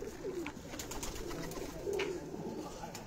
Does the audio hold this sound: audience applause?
no